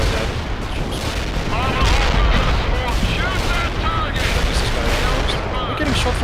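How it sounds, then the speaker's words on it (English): Constant gunfire and explosions in the strategy game World in Conflict, a loud, dense barrage of rattling shots and booms running without pause, with a voice talking over it. "We're getting shot from behind or something."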